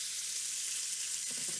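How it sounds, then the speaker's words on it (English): Bacon sizzles and fries steadily in a pot, a dense, close crackling hiss that runs throughout, with a faint stir or shift near the end and no talking. "So we're basically frying this up before we add the soup in there because we want to give it a nice like crunchy texture in the soup."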